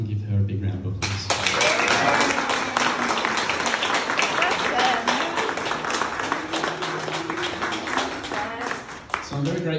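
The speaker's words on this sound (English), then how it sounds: "If everyone can give her a big round of applause." An audience at an arts opening breaks into a big round of applause, dense clapping that starts after a brief spoken line and carries on evenly for several seconds.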